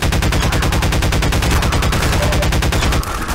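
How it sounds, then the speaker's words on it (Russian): Rapid automatic gunfire in Half-Life 2 at Nova Prospect, a loud, steady stream of closely spaced shots with no pauses, easing into a duller burst near the end. "Стреляю."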